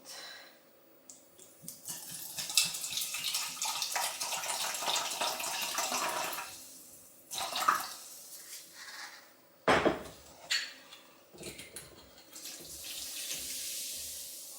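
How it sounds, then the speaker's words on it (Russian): Sparkling mineral water being measured and poured into a bowl of apple cake batter, a splashing, running pour in bursts with a hiss of fizz, plus clinks of a measuring cup and bowl, close and quiet. "Теперь добавляю сюда 100 мл минеральной воды с газами"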